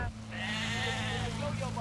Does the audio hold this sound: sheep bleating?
yes